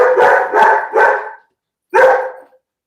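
A dog barks close by, three quick barks in a row, a short pause, then one more bark.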